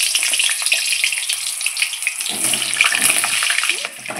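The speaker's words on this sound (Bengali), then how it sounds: "আমি আলুগুলো এখন ছেড়ে দিচ্ছি ভাজার জন্য" Potato pieces fry in hot oil with cumin in a pan, a steady bright sizzle that crackles louder and busier partway through, with no talking.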